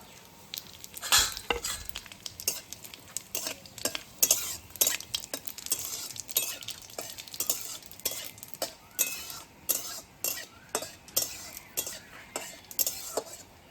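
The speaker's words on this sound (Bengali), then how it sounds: "কড়াই তেল গরম হয়ে গেছে, এখন তেজপাতা গোটা জিরে শুকনো লঙ্কা তেলের উপর দিয়ে দেবো।" Bay leaf, whole cumin and dry chillies crackle in hot oil in a wok, a busy close sizzle punctuated by regular metal clinks and scrapes of a spatula stirring, with no talk over it.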